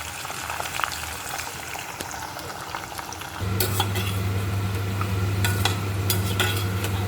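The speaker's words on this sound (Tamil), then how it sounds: "சிம்லேயே வச்சு கொஞ்சம் கொஞ்சமாக இதை வந்து ஃப்ரை பண்ணி எடுப்போம்" Prawns frying slowly in oil over low heat for prawn pickle, a steady close sizzle that steps up louder midway, with occasional utensil scrapes and stirring, no voices.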